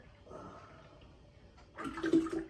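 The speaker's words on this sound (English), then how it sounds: "so you dump your half gallon of cream in" A half gallon of cream is poured into a container for making butter: a faint murmur, then a short, louder gush of liquid near the end.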